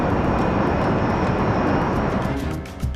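Learjet jet engine roaring steadily in flight, a loud continuous broadband rush with a faint high whine, holding level before dipping slightly near the end; no talking.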